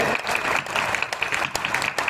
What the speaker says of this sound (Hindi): तालियां आपकी कमजोर है।